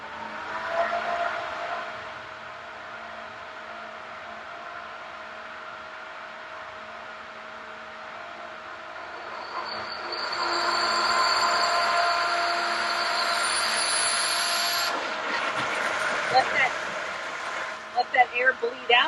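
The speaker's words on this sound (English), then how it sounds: "You're going to hear some air coming out of here to get all the air out of this cartridge." A Pentair Clean and Clear 200 pool filter bleeding air from its cartridge while the pump self-primes: a steady mechanical hum with a sharp high hiss of escaping air rising partway through, then sputtering and spitting bursts near the end.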